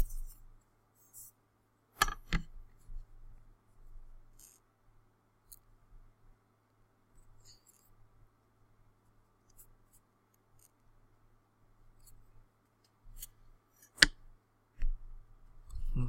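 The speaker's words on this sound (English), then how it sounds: "Now what I'm doing, I'm drawing 2 points so I can draw a line." A pencil taps and scratches points onto paper while laying out a drafting title block, heard as a few brief, sharp ticks and faint scratches separated by long near-silent gaps, close and quiet.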